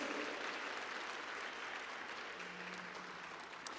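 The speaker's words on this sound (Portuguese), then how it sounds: "É um aplauso para o Senhor Jesus" A church congregation applauds during a service, a faint, even, steady hiss of many hands clapping heard from a distance throughout.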